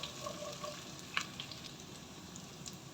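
Raisins are stirred in a pan while cooking semolina upma, a soft, low frying sizzle with a light clink from the spoon partway through, fairly quiet and with no voices.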